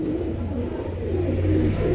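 Pigeons at a Nitaiganj, Narayanganj pigeon market give a low, continuous cooing that swells slightly toward the end, close and fairly quiet, with no voices.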